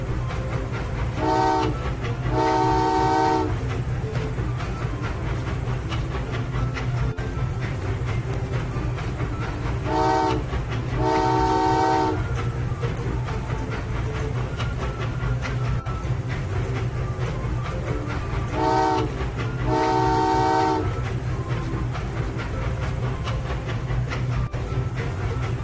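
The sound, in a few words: train passing with horn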